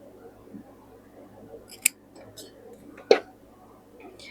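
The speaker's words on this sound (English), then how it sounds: "we're going to cut this one right here in half." Scissors snip through fabric while a bolster pillow cover is being sewn, two sharp cuts standing out over a quiet room background.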